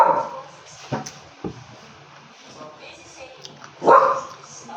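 A pet dog barks in a few sharp bursts near the start and again loudly close to the end, with a household background and some voice-like sound in between.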